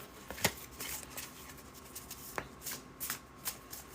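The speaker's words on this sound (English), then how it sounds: "Let me shuffle these back together." Cards riffled and shuffled up close, a few sharp bursts of flapping paper separated by quieter handling, with no voices.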